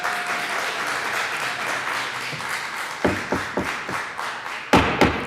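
Applause fills the Colorado House legislative chamber, a steady patter of many hands that ends in a few loud, spaced thumps near the close, probably a gavel.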